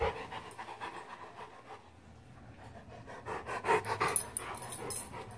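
Dogs pant rapidly and rhythmically close by, a quick steady huffing that briefly fades and then picks up again.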